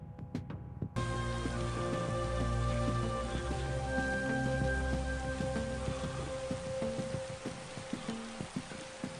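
Steady rain falls in a film scene set around a general and a shivering soldier standing at attention, with dense, continuous patter that sets in abruptly after a brief quiet start and holds near and loud throughout.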